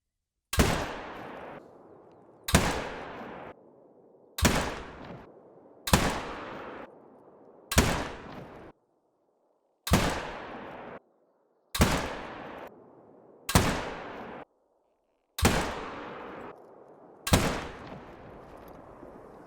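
Malmer 7mm Magnum rifle fired on a range in theHunter: Call of the Wild, ten loud single shots spaced about two seconds apart, each a sharp crack with a short decaying tail.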